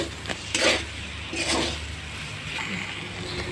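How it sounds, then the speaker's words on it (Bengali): Spices with salt and turmeric for a vegetarian soybean curry sizzle in a pan while a spoon scrapes and stirs, with a couple of brief clattering bursts over a steady low frying hiss. "এবার একটুক্ষণ একটু কষিয়ে নিয়ে জল দিয়ে দেবো"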